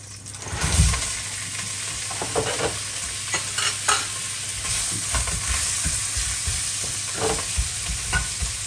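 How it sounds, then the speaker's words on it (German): Steady sizzling of onions frying in a pan, with occasional stirring scrapes and clinks throughout, close and moderately loud. "Und brate jetzt hier in der Pfanne die Zwiebeln von allen Seiten an."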